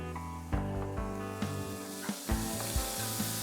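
Finely chopped green chilies crackle and hiss as they fry in hot oil in a pan, a steady sizzle with a few sharp pops, beneath prominent background music.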